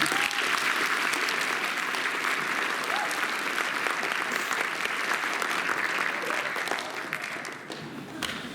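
Sustained audience applause at a school student awards and panel event fills the room, dense and steady with a crowd clapping throughout, tapering slightly near the end.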